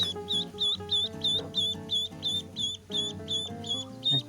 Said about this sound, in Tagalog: Medyo paus ng konti yung sa itik.